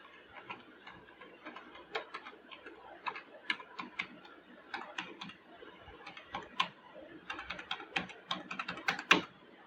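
Someone types a password on a computer keyboard, a quick run of light, uneven key clicks with short pauses between bursts and a harder tap near the end, close and clear.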